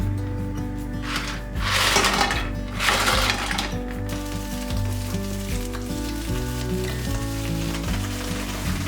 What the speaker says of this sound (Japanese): フライパンにオリーブオイルをひき、ニンニクの香りをじっくりと引き出す。